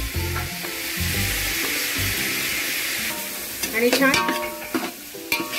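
Onion and tomato with chopped coriander and turmeric sizzle steadily in a hot pan, with a spoon scraping and stirring through the mix and louder bursts of frying near the end; a voice speaks briefly.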